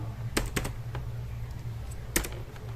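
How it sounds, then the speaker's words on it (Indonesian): A command is typed on a computer keyboard during web server setup on Fedora: a few quick clustered key clicks, a pause, then another brief burst of keystrokes, crisp and close in a quiet room. "maka ketikkan perintah sudo firewall"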